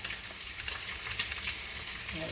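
Garlic frying in a pan as part of a pasta and fish fillet lunch, giving a steady close sizzle with fine crackling that runs throughout without pause.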